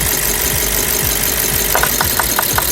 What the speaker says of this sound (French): Je vais tirer une bobine et vous allez entendre clac clac clac clac clac clac.